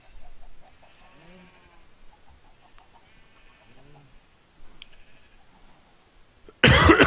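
Sheep in the video game Minecraft bleat softly twice while being sheared with shears, quiet wavering cries among faint game sounds, then a sudden loud burst of noise at the very end.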